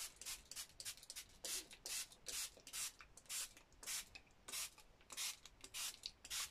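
Repeated short hissing bursts from a water spray bottle misting Brusho watercolour paint, close and fairly quiet, coming in a loose irregular rhythm.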